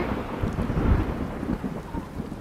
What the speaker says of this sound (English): You can't stop with all the rain.